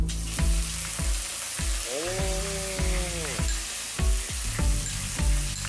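Loud, steady sizzling of onions frying in hot oil, crackling continuously with regular scraping stirs and a brief rising tone in the middle.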